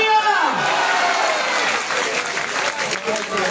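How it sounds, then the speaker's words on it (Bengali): Loud, dense applause from a large crowd at a religious gathering and Baul music festival, continuous clapping close and full throughout, with a rising tone at the start. "সবাই মাশাআল্লাহ বলে জোরে একটা তালি"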